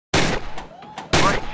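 Two sharp, loud bursts of gunfire from the VR shooting game Gun Club VR, each a dense blast with a decaying tail, separated by about a second and a faint ringing tone.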